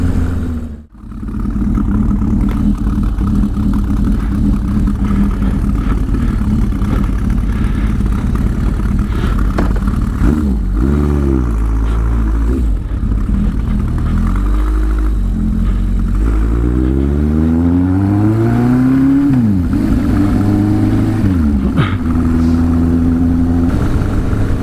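A woman rides a motorbike close by, and its engine hums steadily and loudly while the pitch rises and falls as she shifts gears and changes speed.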